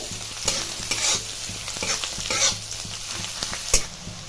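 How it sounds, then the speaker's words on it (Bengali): Chopped green chilies and carrots fry in a hot pan with a steady sizzle, punctuated by repeated scraping strokes of a spatula stirring them. "এরপর দিয়ে দিতে হবে কুচনো গাজর। এটাকে ভালো করে ভেজে নিতে হবে।"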